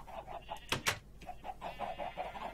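Chickens cluck softly and repeatedly on a chicken farm in the video game Minecraft, a steady stream of short calls with a couple of louder bursts partway through.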